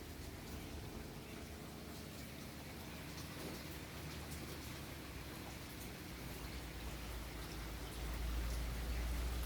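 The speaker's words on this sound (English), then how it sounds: "If you want to hear the sound of the rain," Rain falls outside on a foggy February day as a steady soft hiss of drops, even and gentle throughout, with a low rumble swelling near the end.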